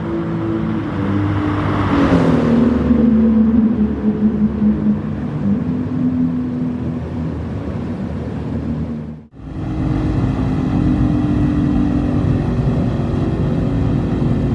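A Toyota Supra and a Nissan Skyline GT-R R34 race from a rolling start with a loud, close, sustained engine roar whose pitch climbs and holds. The sound briefly dips before the engines resume at full strength.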